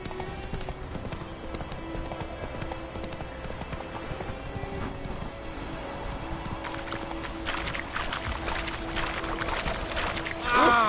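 Hooves of the horse Roach in The Witcher 3: Wild Hunt, a steady clip-clop of walking or trotting on ground, close and continuous, with a brief whinny-like sound near the end.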